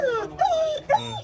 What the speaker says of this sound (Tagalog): Ang isang aso tila naiyak nang dumating na sa wakas ang saklolo